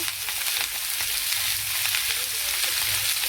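Vegetables fry in a pan with a loud, constant hissing sizzle, close up, with faint stirring scrapes under it and no voices.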